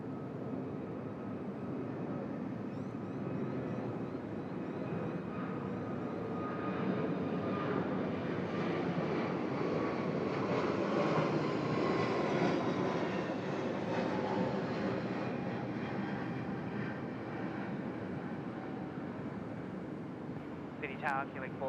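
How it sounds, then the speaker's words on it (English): An Emirates Airbus A380 takes off at Sydney Airport, its broad jet roar building steadily to a loud peak mid-way before slowly easing off, with a brief chirp near the end. "Emirates A380 time. Off to Christchurch."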